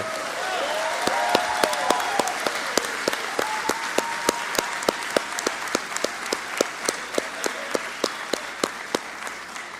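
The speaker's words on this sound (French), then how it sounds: "On peut s'applaudir." A congress audience applauds itself in a hall, a long sustained round of dense clapping with sharp individual claps standing out, fairly loud and continuous, with some voices underneath.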